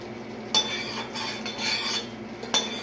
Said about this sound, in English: And you do every so often need to stir.